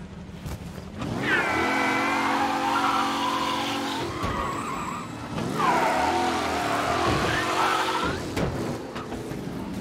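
Car in the video game Mafia Definitive Edition, engine revving loudly with tire squeal and skidding in two long sustained bursts, close and prominent, with no talking.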